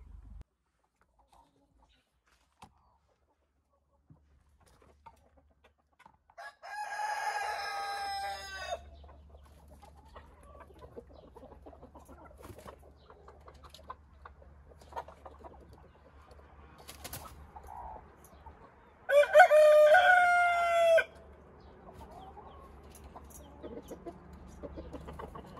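A rooster crows loudly twice, about twelve seconds apart, among other chickens in a Korean farmyard. Softer clucks and a low steady hum fill the gaps between the crows.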